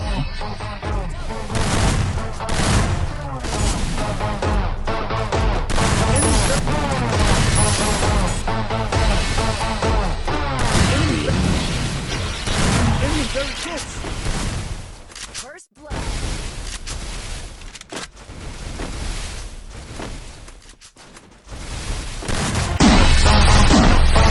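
M1887 shotgun fire in a video game, dense bursts of repeated blasts and booms layered over game sounds and music, loud and nearly continuous with one brief dropout midway.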